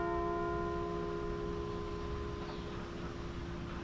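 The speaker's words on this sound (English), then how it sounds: "The church bell." Bell of the Church of St Peter and St Paul in a snowy Cotswolds village, a sustained ringing tone hanging faintly over quiet outdoor ambience, fairly distant with no talking.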